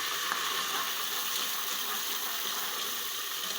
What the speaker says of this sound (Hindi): अब इसमें हम लहसुन डालेंगे, इसको भी भूनेंगे साथ